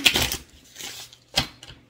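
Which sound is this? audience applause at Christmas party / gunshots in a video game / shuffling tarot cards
shuffling tarot cards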